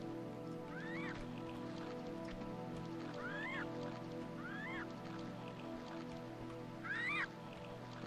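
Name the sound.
bird calls in Tomb Raider 2 video game, Tibet level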